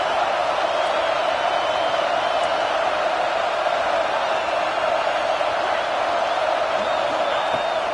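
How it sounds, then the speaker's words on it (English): A home crowd at a Georgia versus Ohio State football game roars loudly and steadily, a dense wash of cheering that fills the whole stretch without letting up. "how nice is it to have the home crowd going absolutely bananas"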